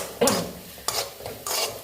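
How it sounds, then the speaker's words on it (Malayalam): Grated coconut is stirred and sautéed in a pan in a village kitchen, three separate scraping, sizzling strokes close by with short quieter gaps between them. "തേങ്ങ ഇതും കൂടി നന്നായിട്ട് വഴറ്റി എടുക്കാം"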